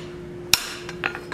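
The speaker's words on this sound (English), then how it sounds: "we're going to hammer straight down on those" A hammer strikes hot steel bar on an anvil during forging of an oak leaf curtain tie back: one sharp, loud ringing blow followed by two lighter taps, close and alone.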